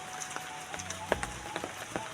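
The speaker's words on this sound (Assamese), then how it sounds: "ইয়ে হাই বৰষুণ দি আছে" Rain falls outdoors along a road in Assam, a steady patter with scattered louder drops hitting a surface, heard close and alone without talk.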